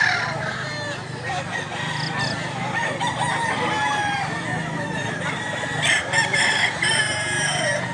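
Several roosters crow repeatedly amid a busy yard of clucking fowl in Mantalungon, Cebu, with a steady background murmur and occasional voices.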